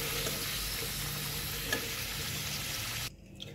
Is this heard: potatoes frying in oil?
yes